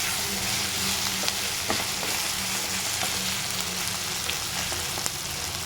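Spices roast in a hot pan for a mutton curry, hissing and sizzling in a steady wash, with faint scraping and stirring ticks scattered throughout and no voices.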